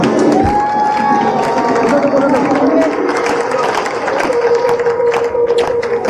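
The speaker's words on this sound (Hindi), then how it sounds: "जोरदार तालियां।" Hall audience at a live results and plan event gives loud applause with cheers, a steady continuous clatter of clapping while a voice talks over it.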